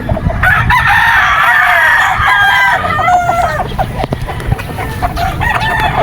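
A gamefowl rooster at a game farm crows loudly and close by, its long rising call followed by shorter clucks and throaty notes, with other fowl faintly in the background.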